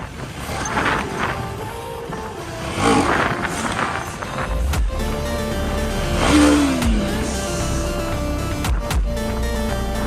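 A KTM motorcycle engine revs aggressively at close range, rising and falling in pitch, mixed with wind buffeting and broadband road rumble throughout.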